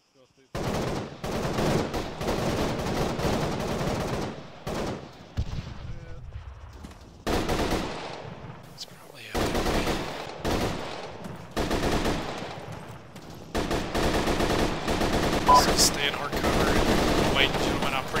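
Bursts of automatic and single-shot gunfire in a military shooter video game, loud sharp volleys in repeated clusters separated by short pauses, with radio-style voices talking between them.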